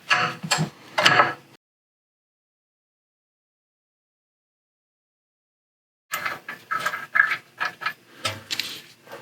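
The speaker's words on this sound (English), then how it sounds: "An extension and 18 mil to get off these back bolts" An 18 mm socket on an extension turns on a ratchet, loosening the rear brake bolts on a BMW F10. Close, dry clicking and metallic clatter come in two bursts, a short one at the start and a longer one after several seconds of silence.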